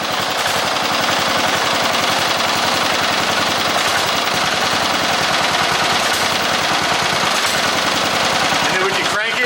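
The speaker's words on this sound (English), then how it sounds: "This old motor runs really sweet. Look how low it can idle. I just started it up." Old Briggs & Stratton flathead engine running at a low idle, a loud, close, rapid and steady chugging pulse that fills the whole stretch, with a voice faintly talking beneath it.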